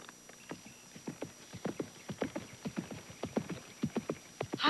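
A horse being run for a prospective buyer, its hooves drumming out a quick, steady clip-clop rhythm at close range, loud and alone with no talking.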